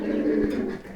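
Pigeons at a pigeon farm, including black birds, give a low, throaty cooing rumble that fills the short moment close by, with no talking.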